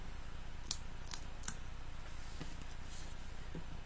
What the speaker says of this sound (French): Le mieux, c'est de couper un carré dans un papier